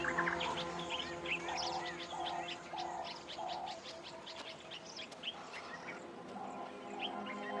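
A huge flock of quelea birds gathering at sunset on the African savanna, a dense continuous chorus of chirping and twittering with a low warbling undertone, steady and fairly distant.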